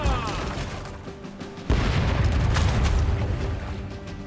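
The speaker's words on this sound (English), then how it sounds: "Let's hear those cannons roar." Ship cannons fire in the naval combat game Rogue Waters: a steady battle din, then a sudden heavy broadside of booming blasts that keeps rumbling loudly to the end.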